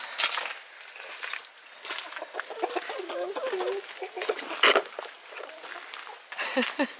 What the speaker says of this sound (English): Look at these crazy chickens.